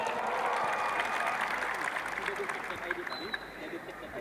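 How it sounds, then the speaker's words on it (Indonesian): An audience applauds journalists at an Indonesian political event, with a sustained patter of clapping from a crowd, moderately distant and faint, and voices mixed underneath. "Tepuk tangan untuk jurnalis Indonesia."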